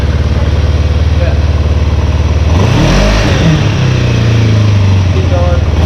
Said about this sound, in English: I want you to rev the bike up